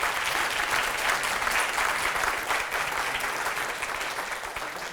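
Steady applause from a conference audience fills the room, many hands clapping at an even, fairly loud level that tapers slightly toward the end with no voices over it.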